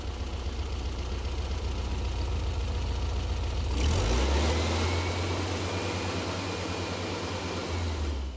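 An air-cooled VW Beetle engine idles with a steady low rumble, briefly revving up partway through before settling back to idle.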